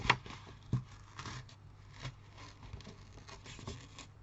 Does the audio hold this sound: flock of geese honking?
no